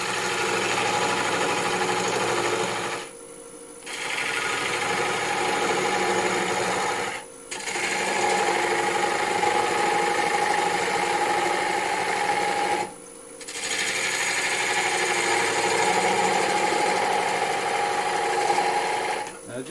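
A power saw, likely a jigsaw, cuts along a marked line in four long buzzing runs, loud and close, separated by short pauses.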